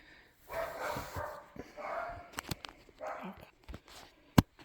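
Several dogs bark and yip in a home, in short, fairly loud bursts mixed with softer whimpering sounds and a few sharp clicks, with no one talking.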